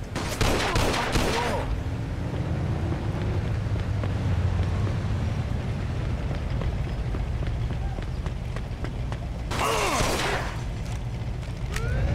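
Bursts of gunfire from a shootout in The Betrayal of Jimmy, in two loud clusters at the start and near the end, over a steady mechanical rumble of game ambience with no talking.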